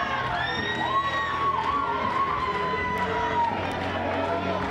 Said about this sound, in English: You can hear that crowd cheering on Gazoz and Başaran.